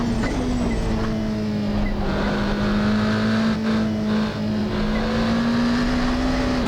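A race car engine in a modded racing video game holds a steady, loud drone throughout, its pitch barely shifting as it runs flat out with no talking.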